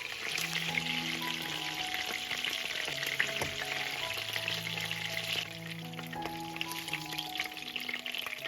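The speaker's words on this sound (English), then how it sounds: "I just keep a little of the oil in the wok to fry the onion and the garlic" Onion and garlic frying in a little oil in a wok, a steady bright sizzle with faint crackles and light stirring, close and even throughout, no voices.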